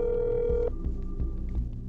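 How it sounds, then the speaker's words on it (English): A telephone rings in the horror video game That's Not My Neighbour: a steady electronic ring tone for a moment, then a run of throbbing, evenly spaced pulses, up close and with no talk. "Okay, I'm gonna have to phone up for that then."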